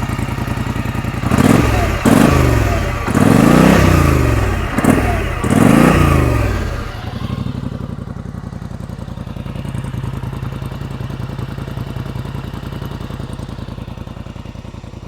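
A Polaris Sportsman 850 Ultimate Trail ATV engine revs hard several times in loud, close bursts, then settles into a steady, lower idle rumble.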